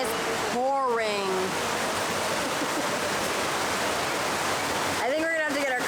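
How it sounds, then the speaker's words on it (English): Heavy rain pours down in Kandy, Sri Lanka, a steady, dense hiss that keeps up throughout, with brief bursts of nearby talking at the start and end. "We were just about to leave, and it is pouring."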